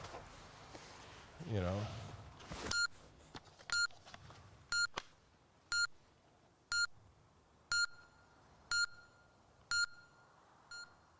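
A sharp electronic beep repeats at a steady pace, about once per second, clear and close, following a brief burst of noise at the start.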